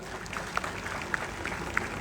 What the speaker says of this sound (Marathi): यांच्यासाठी आपण एकदा जोरदार टाळ्या वाजवा.